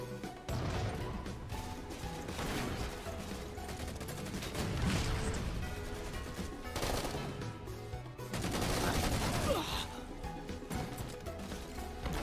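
Rapid automatic gunfire rattles almost continuously through a Halo 4 firefight, with bursts swelling and easing over the whole stretch, moderately loud and with no talk over it.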